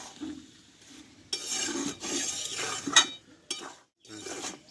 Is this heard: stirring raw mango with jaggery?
yes